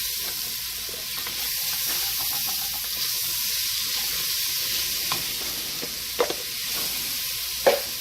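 Onions and garlic frying in oil in a pan for an Italian-style roast pork dish, giving a steady close sizzle with a few sharper crackles and pops near the end, without any talk.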